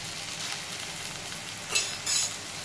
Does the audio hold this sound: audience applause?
no